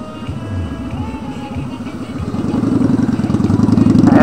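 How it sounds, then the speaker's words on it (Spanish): A motorcycle on a road in Sonsonate, El Salvador passes close by, its mid-pitched engine droning and then rising in a loud, accelerating rev toward the end. "Ese man que va en esa moto, yo ya lo conozco."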